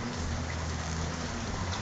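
Rain falls steadily during a super typhoon, a dense, even wash of noise without distinct drops, with no talking.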